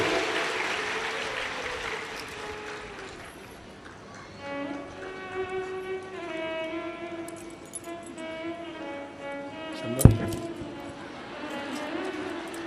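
Loud clapping rises from an audience at a Shiv Mahapuran katha religious discourse in Sehore, then fades as sustained chanting and devotional music take over, with a sharp clink near the end.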